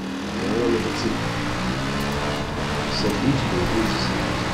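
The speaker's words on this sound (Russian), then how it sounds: "Я на мотоцикле." A motorcycle engine hums at a steady, fairly loud drone in the video game Far Cry, with noisy rushing texture over it throughout.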